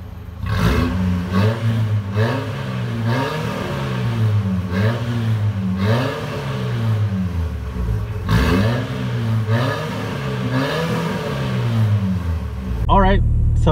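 A V8-swapped minitruck's exhaust rumbles loudly up close, the engine blipped repeatedly in a steady series of rising and falling revs before a clunk at the end.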